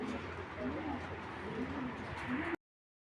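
Foreign racing pigeons coo in soft, repeated low rolling calls amid a dense, noisy background, fairly close and continuous before cutting off abruptly.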